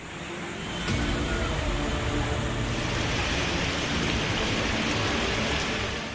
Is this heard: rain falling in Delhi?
yes